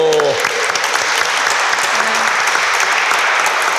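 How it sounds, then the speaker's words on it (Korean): An audience at a citizens' public debate on a labor court applauds to welcome a speaker, a loud, dense, continuous round of clapping filling the whole stretch, with a brief voice at the start. "큰 박수로 맞아주시죠."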